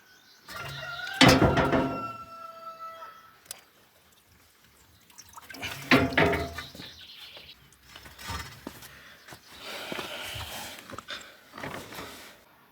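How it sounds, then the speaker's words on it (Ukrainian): Excess water drains and drips from a soaked cucumber seedling pot in a few sparse, quiet bursts separated by near-silence. "ми її витягуємо і зайву воду даємо отстоятися, щоб вона збігла"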